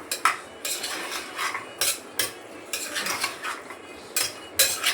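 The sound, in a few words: chickpeas (chole) being stirred and sautéed in oil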